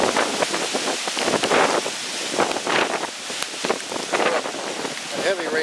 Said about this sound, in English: Rain's starting to pick up now.